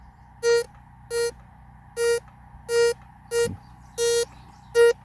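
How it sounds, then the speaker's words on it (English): A metal detector sweeping over buried metal in a field by an old barbed wire fence, giving seven evenly spaced, clear electronic beeps, each about a third of a second long, over a low hum. "we'll just go along with our metal detector, try to go sort of slow"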